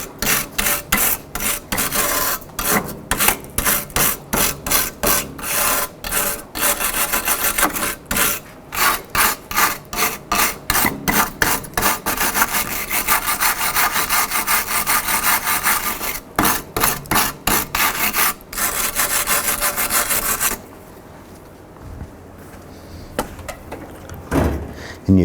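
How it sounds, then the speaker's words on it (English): A wire brush scrubs the radiator mount of a 2007–2011 Honda Civic in quick, rhythmic rasping strokes, close and loud, with a few brief pauses, then fades to quieter handling noises. "Maybe just use a wire brush. We're going to clean that up."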